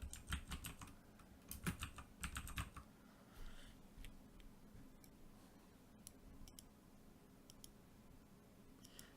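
Fingers tap on a computer keyboard in bursts of quick, close clicks, then give way to sparser single keystrokes and faint ticks against a quiet room.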